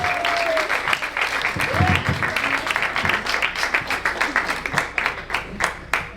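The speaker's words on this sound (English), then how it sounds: "Give Joey and Angelo a big round of applause." A comedy club audience at The Showroom in Asbury Park, New Jersey, gives a loud round of crisp, rapid clapping that carries through the whole stretch, with a few voices and shouts mixed in.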